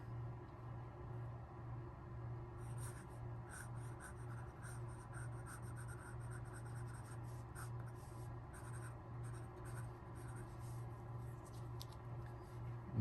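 A 14 karat gold music nib fountain pen scratches softly across paper in quiet, intermittent strokes over a low steady background hum.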